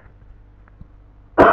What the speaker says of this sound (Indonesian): Mohon maaf nih saya sambil batuk ya